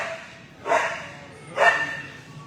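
A playful male puppy lets out two short, bright barks about a second apart, close by, with quiet background sound between them.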